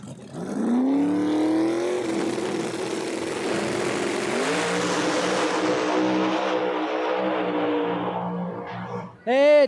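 No-prep drag race cars from the Street Outlaws No Prep Kings series tear down the strip at Epping, New Hampshire. A loud, close engine roar rises and falls in pitch across several gear changes, then ends in a sudden sharp burst.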